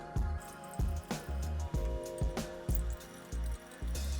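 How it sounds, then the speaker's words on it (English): Warm water poured into eggs while stirring for a steamed egg recipe, rhythmic sloshing and splashing strokes about twice per second, close and clear with no talking. "Slowly add the water and stir at the same time."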